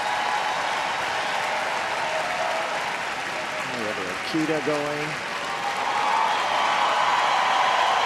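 Spectators at the Westminster Kennel Club working group judging give steady applause for a Doberman Pinscher, a continuous clapping roar that swells toward the end, with a commentator talking briefly over it midway.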